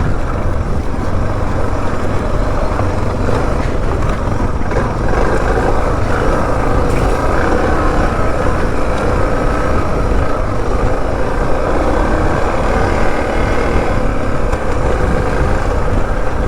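A motorbike rides over rocky desert terrain in the Negev, its engine roaring loudly and continuously up close, with buffeting wind and rattling underneath.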